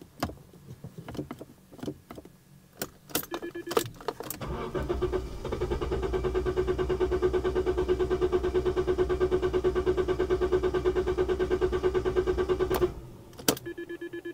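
A new company road car's engine cranks unevenly with clicks and clunks, then catches into a steady, loud idle that runs for several seconds before cutting off abruptly, followed by a couple of sharp knocks.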